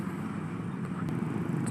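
Heard from a motorcycle stuck in a traffic jam, a dense, steady rumble of idling and crawling vehicle engines fills the scene, close and continuous, with no talk.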